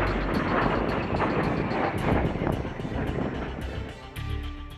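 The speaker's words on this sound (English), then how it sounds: "Taking off in a Harrier is an intense yet short experience" AV-8B Harrier II jet taking off from a ship's deck at sea, a loud, sustained roaring engine blast that fills the whole stretch, steady and broadband.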